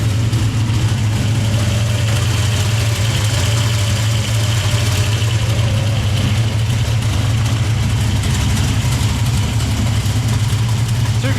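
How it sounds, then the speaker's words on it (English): A Ford Barra engine in a drag ute idles loudly and steadily up close, a deep continuous rumble with a slightly uneven lope and no revving. "that's what a real engine sounds like."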